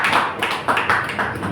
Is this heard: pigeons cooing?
no